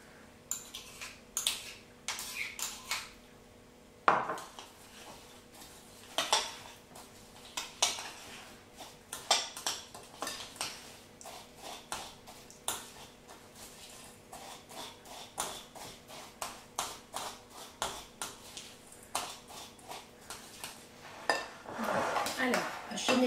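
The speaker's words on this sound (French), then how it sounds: "j'ai écrasé 12 palets de breton donc, que j'ai mis dans un saladier auquel je vais rajouter 50 g de beurre fondu" Crushed Breton palet biscuits being stirred with melted butter in a salad bowl: close, repeated clinks and scrapes of a spoon against the bowl in an irregular rhythm throughout.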